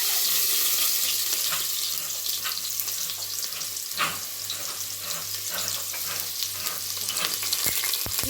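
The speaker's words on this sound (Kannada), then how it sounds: "ಸೊ ಎಣ್ಣೆ ಚೆನ್ನಾಗಿ ಕಾದಿದೆ. ಇವಾಗ ಸ್ವಲ್ಪ ಈರುಳ್ಳಿ ಹಾಕ್ತೀನಿ." Onions crackle and sizzle steadily in hot oil in a pan, a dense continuous frying hiss with occasional sharper pops and spatters, close and fairly loud, with no talk, while a home cook makes a rustic country-style egg and chicken curry.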